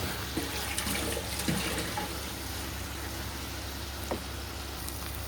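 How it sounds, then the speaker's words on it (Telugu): Water being poured into a pot of keema khichdi, a steady faint hiss of flowing water over low kitchen background noise, with a few soft clinks and no talking. "ఇప్పుడు కొంచెం వాటర్ యాడ్ చేసాం"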